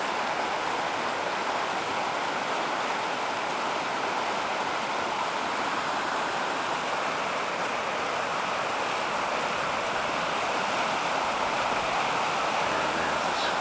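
Broad, steady roar of a flooded brook in spring, rushing water churning around fallen trees and rocks, loud and continuous with no breaks.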